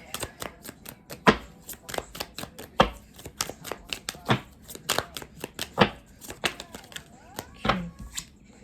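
Tarot cards shuffled and drawn from a deck, with a rapid series of crisp card snaps and riffles and several louder slaps, close by and with no talk.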